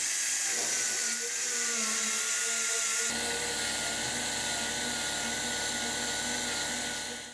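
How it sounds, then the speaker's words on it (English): A small die grinder with a 1-inch barrel sander whines continuously at high speed, its pitch shifting as the sanding drum bites into a rusty motorcycle frame, loud and close with no pauses. "this is just a little die grinder with a 1-inch barrel sander."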